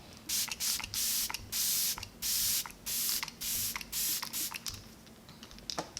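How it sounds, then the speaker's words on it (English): Repeated short bursts of aerosol spray misting close by, about eight quick hissing puffs in an irregular rhythm, with no talking. "So I hold it closer to my face than I would like a normal setting spray."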